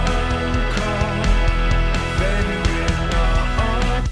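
Deep bass-bomb sub hits programmed in GarageBand to land on every measure, thudding low and steady beneath a busy, dense music track.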